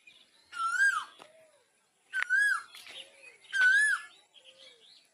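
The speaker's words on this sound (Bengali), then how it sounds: "পাখির টুহু টুহু গান সেই লাগলো" A bird calls three times in clear, repeated whistled phrases, each with a short lower note after, loud and close against near silence.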